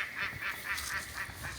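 A machiavellian duck at an outdoor project site gives a string of about six nasal honking quacks in a steady rhythm, fairly close and loud over a low outdoor background rumble.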